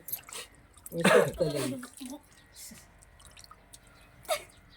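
Water is poured during a hand-washing or bathing routine, heard as brief splashes and a few drips at close range, with a voice talking over the first half.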